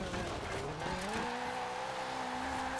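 A small turbocharged engine from a Toyota in the Forza Horizon 4 racing game keeps up a steady drone with a rising pitch, loud and constant throughout.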